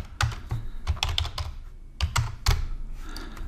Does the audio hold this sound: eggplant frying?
no